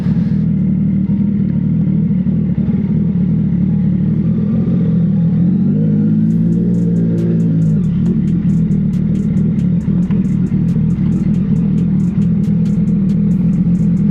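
A CFMoto 675SS motorcycle with a basic aftermarket eBay exhaust idles and revs in a loud, steady low rumble, with one rising rev swell partway through and no talking.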